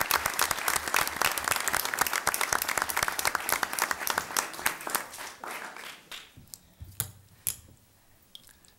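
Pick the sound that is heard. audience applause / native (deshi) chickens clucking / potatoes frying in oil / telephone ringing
audience applause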